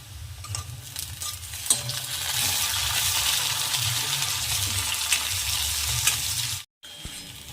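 Tomato fries with onions in a pan for a bitter gourd curry, a loud steady sizzle with stirring scrapes, cut off by a brief silence near the end.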